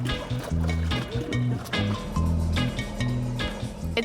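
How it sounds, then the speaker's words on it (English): Kayak paddling on the water in Berlin toward the city centre, with rhythmic splashes and water sloshing against the hull as the paddles dip, heard close over a steady low motor hum. "We paddle towards the city center."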